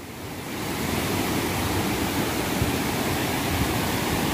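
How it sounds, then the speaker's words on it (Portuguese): The Santa Luzia waterfall in Viçosa, Alagoas roars as a loud, dense, unbroken rush of falling water, close and steady throughout with no voices. "É a Cachoeira Santa Luzia, em Viçosa,"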